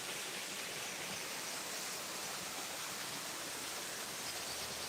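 A waterfall rushes out of sight below a trail at dawn, a steady, faint, even hiss of falling water with no breaks and no voices.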